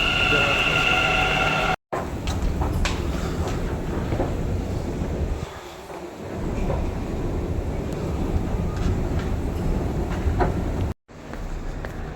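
A metro train rumbles steadily through Majestic metro station, a loud, continuous broadband roar with a brief dip near the middle and two short dropouts, heard close with no clear talk over it.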